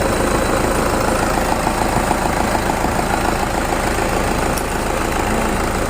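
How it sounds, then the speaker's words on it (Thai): The 2.5-litre diesel engine of a 2006 Toyota Hilux Vigo pickup idles steadily up close, a constant low rumble with a rough, knocking texture throughout. "นี่ก็ส่วนของเครื่องยนต์นะครับ"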